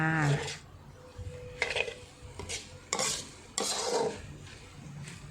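Spaghetti tossed with shrimp and basil in a pan, several loud scraping stirs of a utensil against metal over a soft sizzle, each stroke separated by brief pauses, no one speaking.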